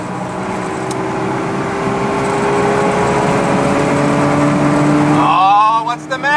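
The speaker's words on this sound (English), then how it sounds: "we gotta try at top speed in this thing with tequila in the gas tank" A car running on tequila in its gas tank holds a loud, steady engine drone at top speed, with a whining tone that keeps rising until it suddenly drops off near the end.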